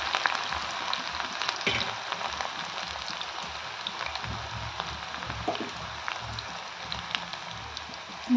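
Cauliflower pieces deep frying in oil for cauliflower 65, giving a steady crackling sizzle with scattered pops, moderately near and continuous throughout, with no talking.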